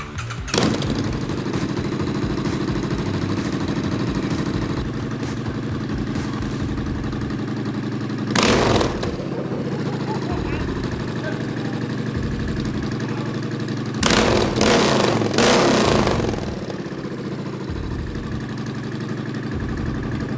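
Street Scrambler motorcycle with a homemade slash-cut exhaust run without silencers, idling loud and steady at close range, with two sharp revs blipping up over the rumble partway through and near the end.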